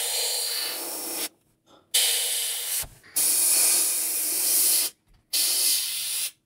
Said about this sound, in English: I'm going to use a airbrush just to make it quick